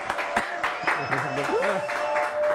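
A studio audience at a televised show applauds the arriving guests, claps scattered at first and then swelling, while voices talk and call out over the applause.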